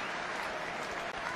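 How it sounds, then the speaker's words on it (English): Stadium crowd applauds steadily at the Chelsea Legends vs Inter Forever football match in 2018, a dense, loud, continuous wash of clapping from a large audience. "Massive, massive applause for everybody."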